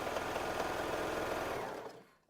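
A serger overlocking a seam on a Valentine's Day dress, a fast steady mechanical whir that runs continuously and then winds down to stop.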